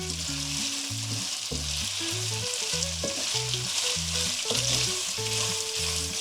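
Pasta tossed and stirred with cooked guanciale in a pan for carbonara, with steady close sizzling and rhythmic scraping, clattering strokes throughout, no voices.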